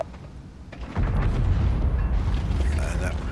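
Tank cannon fire in World of Tanks, with a tier 9 American T-30 tank destroyer in battle: a deep boom lands about a second in and leaves a heavy, sustained low rumble with scattered crackle to the end.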